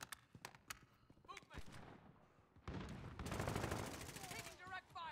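Gunfire in the video game Call of Duty: Modern Warfare, with scattered single shots giving way to sustained rapid automatic bursts, fairly faint and mixed with game effects and brief radio voice lines.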